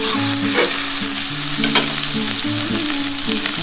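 Dhaba-style chicken marinated with onion, ginger, garlic, turmeric and Kashmiri chili, frying in mustard oil: a loud, close, steady sizzle with stirring scrapes, over a low tonal melody and no speech.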